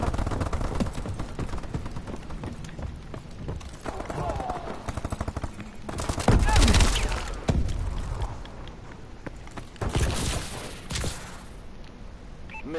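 AK rifle gunfire in an online shooter video game rattles in rapid bursts, loud and close, over ongoing voice chat from players talking throughout.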